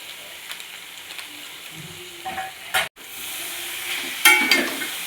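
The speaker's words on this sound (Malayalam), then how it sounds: "നന്നായി ഇളക്കി മിക്സ് ചെയ്യുക." Beef fry with pepper powder being stirred in a pan, a steady close sizzle broken by sharp scraping stir strokes and a brief pause midway.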